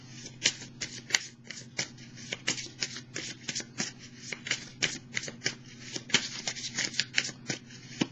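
Tarot cards shuffled by hand in a close, continuous run of quick papery riffles and flutters, with steady rhythmic bursts and no talking.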